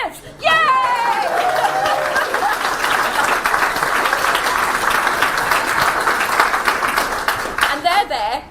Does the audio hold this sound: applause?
yes